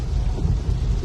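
Heavy rain pours steadily on a road during a storm, a dense, continuous low roar with a rumbling, thunder-like undertone throughout the short stretch.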